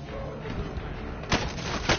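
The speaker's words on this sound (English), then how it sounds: "Who the fuck is shooting?" Gunfire in a video game: repeated shots rattle over a dense, noisy game soundscape, with two sharper, louder cracks near the end.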